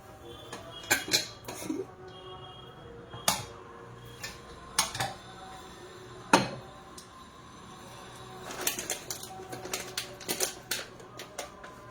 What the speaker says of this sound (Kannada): ಮೊದಲಿಗೆ ನಾನು ಇವಾಗ ಕುಕ್ಕರ್ ಇಟ್ಕೊಂಡಿದ್ದೀನಿ